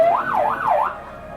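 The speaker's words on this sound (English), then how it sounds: "Turn the siren on and go" A wailing emergency siren rises and falls in smooth sweeps for about a second near a dirt riding compound, then cuts off, leaving quiet ambience.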